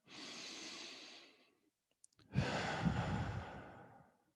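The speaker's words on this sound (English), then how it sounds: "Let's just take a deep breath together." A slow, deep breath taken during a guided seated breathing and relaxation session: a long, steady airy inhale, a short pause, then a fuller, louder exhale, close and clear with no talk.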